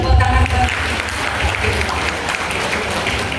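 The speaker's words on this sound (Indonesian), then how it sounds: "Tepuk tangan buat ibu." Applause from an audience at an Islamic gathering honoring mothers, loud and dense throughout, with a low rumble of crowd noise and a burst of voices near the start.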